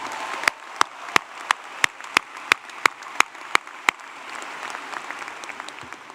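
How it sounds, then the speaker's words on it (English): Graduation ceremony crowd applauding in a large venue, with dense sustained clapping overlaid by a run of sharp, evenly spaced louder claps near the microphone that stop partway, leaving the fading applause alone. "Can you please give a big round of applause to Ansley for the amazing job she did singin"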